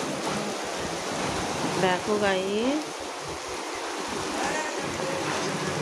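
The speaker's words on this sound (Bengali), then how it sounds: "কি জোর বৃষ্টি হচ্ছে।" Heavy rain pours down and floods a balcony, making a steady, dense roar of water throughout, with a voice speaking briefly over it.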